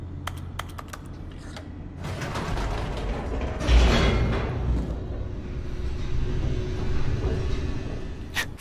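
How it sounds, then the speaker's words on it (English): A descending elevator in The Stanley Parable game rattles and whirs mechanically, with clicking ticks early on, then a rising rumbling clatter that builds and holds as the car moves down, with no speech. "The elevator raced downward, plummeting towards an unknown fate."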